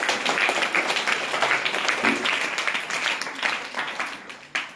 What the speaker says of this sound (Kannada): ಓಕೆ, ಚಪ್ಪಾಳೆ ತನಿಪ